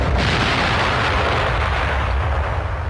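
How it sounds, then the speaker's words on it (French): Artillery shell bursting on target on a World War I battlefield near Verdun, a loud continuous roar of explosion and rumbling blast filling the whole moment with no voices. "l'obus avait explosé en plein sur la cible"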